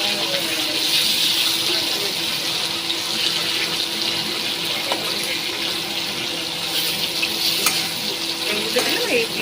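Pieces of bhetki fish crisp up in a pan, giving a steady dense sizzle that fills the whole stretch, with occasional scraping and stirring clicks.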